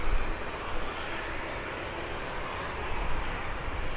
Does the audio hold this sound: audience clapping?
no